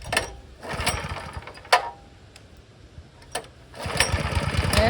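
A small old gasoline engine with a cracked, dry-rotted plastic part runs choked, surging and hunting against its governor in loud rhythmic bursts that swell and fade, with sharp clanks between.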